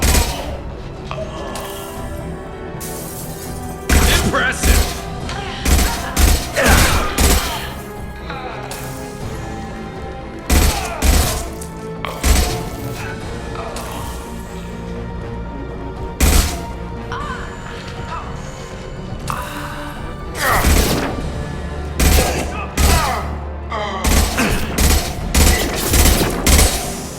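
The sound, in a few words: rifle gunfire in the video game Mass Effect 2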